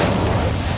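Fire spell from a video game igniting a pyre: a loud, dense burst of roaring flame, broadband and whooshing, filling the short moment with no gaps.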